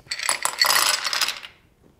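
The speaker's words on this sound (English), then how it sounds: "And add ice." Ice cubes are dropped into a margarita glass, a short burst of bright clinks and rattles lasting about a second and a half before fading, close and alone.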